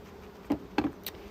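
Honeybees buzz during a hive inspection at an apiary in short, close passes, three brief buzzing bursts against a low steady hum.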